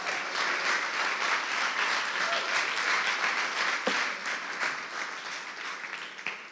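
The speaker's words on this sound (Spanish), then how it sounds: "date un aplauso pues" An audience in a church youth service gives a sustained round of applause, dense and even throughout, with faint voices mixed in and no distinct speech.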